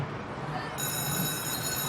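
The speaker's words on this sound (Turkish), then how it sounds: "zil çalıyor" An electric bell rings steadily, a continuous metallic trill with a faint murmur beneath it.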